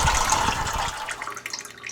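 Water drains from a house's plumbing during a laundry room makeover. A rushing gush comes first, then it thins out into scattered drips and trickles that echo inside the pipes.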